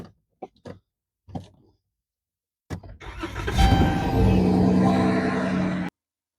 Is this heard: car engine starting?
yes